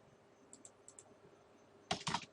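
Several quick, light keystrokes on a computer keyboard while a Cisco switch configuration is entered, a sparse cluster of taps early on, then a louder burst of clacks near the end against a quiet room.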